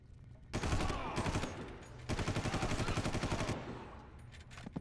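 Gunfire in the Far Cry video game: two loud bursts of rapid shots, the second a long rattling volley with evenly spaced cracks, close and dominant with no talk.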